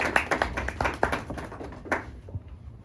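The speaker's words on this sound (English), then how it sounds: "Let's give her a round of applause." A debate class applauding a classmate's speech: a small group claps unevenly, with distinct close sharp claps in a loose rhythm that thin out and fade toward the end.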